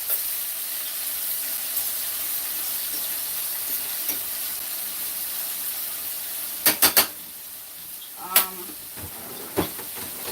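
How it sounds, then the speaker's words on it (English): Green onions, tomatoes and peppers sauté in a pan with a steady, close sizzle, broken near the end by a few sharp clatters and scrapes of stirring. "I'm just sauteing these green onions right here, and tomatoes and peppers."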